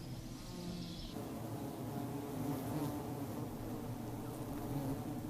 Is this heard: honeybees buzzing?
yes